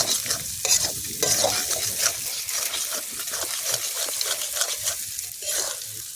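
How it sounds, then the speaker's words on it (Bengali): Chicken kosha is stirred and fried in a pan outdoors in a forest: a continuous sizzle with repeated scraping strokes of a spoon against the pan, close and fairly loud, with no talk. "আরও কষাবো তাহলে ভালো হবে, যত কষাবো রান্না তত ভালো হবে"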